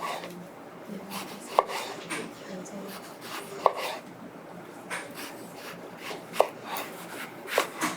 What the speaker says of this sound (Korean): 그냥 가지는 넓게 썰어주세요.